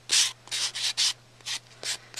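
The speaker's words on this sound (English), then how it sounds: "I'm going to go around and just do some quick sanding." Sandpaper rubs along the edges of a paperclay book cover in roughly seven quick, close, scratchy strokes with a brisk back-and-forth rhythm, and no talking.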